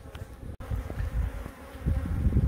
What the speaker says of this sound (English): The bees are starting to stick to the comb just a little bit too much for me.